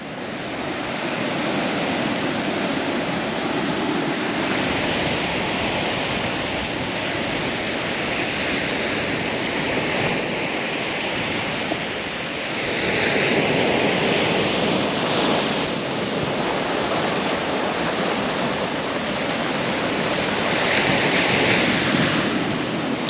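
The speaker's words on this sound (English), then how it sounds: "the waves are way too strong" Strong ocean waves crash at Penang Island, Malaysia, making a loud, continuous roar of surf with swelling surges and wind buffeting the microphone, and no voices.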